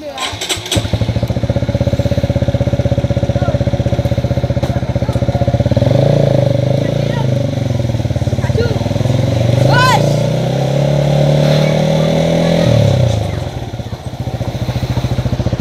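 A rider on a motorcycle wears a KYT NX Race helmet. A loud, steady engine drone and rushing wind fill the whole stretch, and the engine note rises and falls through the middle before settling.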